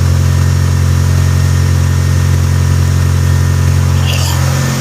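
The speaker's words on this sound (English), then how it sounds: "That's a resealed engine." Resealed 1989 Ford Probe GT engine idling, a loud steady mid-to-low drone with an even hum and no change in pitch, heard up close with no talk.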